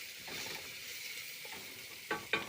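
Crushed garlic stirred into a sizzling pot while cooking Moroccan-style lentils, a steady frying hiss with soft scraping strokes and two sharper utensil knocks near the end.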